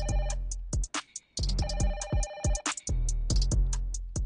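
A telephone rings in an indoor comedy scene, its electronic ringtone chiming in repeated bright bursts with short gaps, loud and close, with no one speaking over it.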